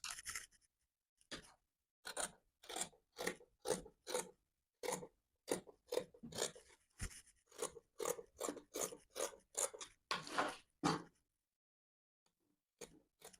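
Scissors snip through fabric while cutting out the front neckline of a layered dress, a rapid run of short crisp cuts that pause briefly and then resume steadily, close up and with no talking.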